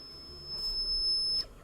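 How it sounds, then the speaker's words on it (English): Dreamcast VMU memory unit emitting a high, thin electronic beep during a Toy Story 2: Buzz Lightyear to the Rescue! game save, a steady sustained tone lasting over a second then cutting off abruptly over quiet background. "you gotta love the VMU beep"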